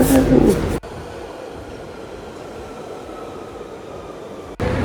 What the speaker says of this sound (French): Et vamos, ça prend le métro.